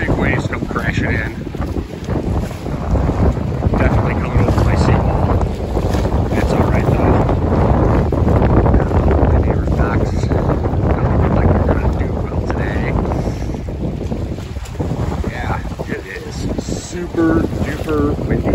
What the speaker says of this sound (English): It is really windy and really choppy out here on the water today.